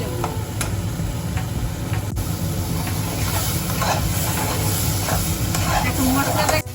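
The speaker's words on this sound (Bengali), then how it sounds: "দিয়ে মশলাটা ভালো করে কষিয়ে নেব" A spice paste of ginger-garlic, cumin, turmeric and chili fries in a pan, a dense steady sizzle with occasional light stirring ticks, close and fairly loud.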